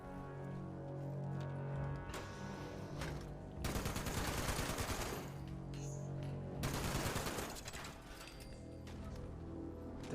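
Bursts of automatic gunfire and fusillades from a Fallout 76 firefight, loud rattling volleys in two heavy stretches with quieter mechanical clatter and background music between them.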